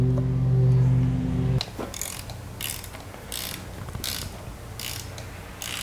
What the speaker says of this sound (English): And now we'll just go ahead and tighten up the negative cable.